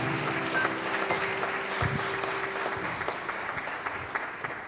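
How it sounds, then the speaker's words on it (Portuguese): A church congregation claps for Jesus during a worship service, a steady wash of many hands applauding together over a lingering sustained tone that fades out midway. "Aplauda a Jesus"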